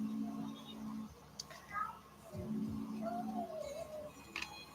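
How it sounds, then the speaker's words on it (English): A live house cat meows in a room where someone works on a chameleon art doll; a few short, thin meows come through over background talk and handling noise. "A real life cat. A live one."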